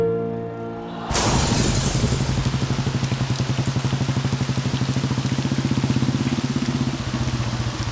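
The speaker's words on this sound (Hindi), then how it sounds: "अरे यार कितनी बारिश आ रही है, मैं तो पूरा भीग गया।" After a quiet, humming start, a sudden loud downpour of rain begins and keeps drumming steadily and densely to the end.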